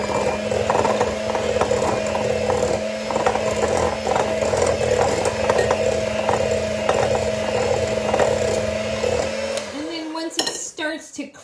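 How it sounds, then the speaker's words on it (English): A standard hand mixer whirs steadily, blending butter and sugar for maple cookie dough, a close, continuous motor drone with a faint rattle that cuts off abruptly near the end with a few clunks. "you usually can get away with just using your standard hand mixer"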